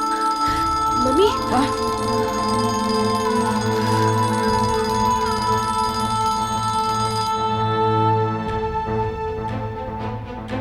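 A phone's melodic ringtone plays steadily and loudly for the whole stretch in a domestic scene from a Malayalam crime thriller film, with a low hum beneath the repeating tones.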